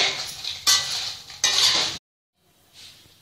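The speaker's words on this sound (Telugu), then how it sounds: "ఇప్పుడు ఎండుమిరపకాయలు వేసి ఒక 5 మినిట్స్ పాటు వేయించి ఆఫ్ చేసేసేయాలి" Red chillies dry roasting in a pan for vangibath powder, with bursts of scraping stirring and clinking of utensil against the pan, two loud stretches then a quiet pause and a faint final stir.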